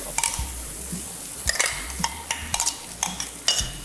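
Crushed masala stirred into hot oil after mustard seeds have spluttered, a ladle clanking and scraping against the pan in an uneven rhythm, close and clear with a faint sizzle beneath.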